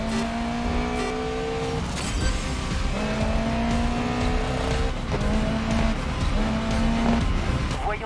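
Race car lapping a circuit in the video game GRID Legends, its engine droning steadily with rising and falling gear pitches and shifts throughout, loud and continuous with no talk.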